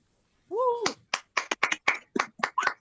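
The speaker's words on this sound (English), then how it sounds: "Everyone unmute and clap." Several people clap over an online meeting, a ragged run of separate sharp claps from a few participants after a short cheer-like voice at the start.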